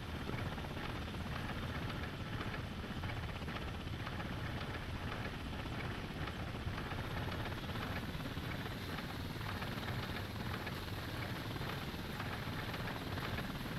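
A helicopter flies in the Thunder Helix video game, giving a steady, loud rotor-and-engine roar that continues without a break throughout.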